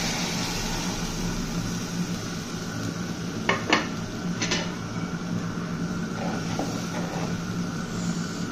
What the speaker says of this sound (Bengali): এখন আমি এর মধ্যে দুধটা দিয়ে দিব।